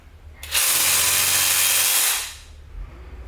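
A Dewalt one-handed short-stroke power saw cutting, a loud continuous buzzing rasp lasting about two seconds that starts abruptly and then trails off.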